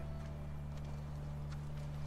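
Horse hooves clip-clop faintly and rhythmically in The Last of Us, soft distant steps beneath a steady low hum.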